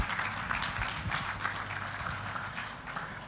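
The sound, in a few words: scattered clapping from the audience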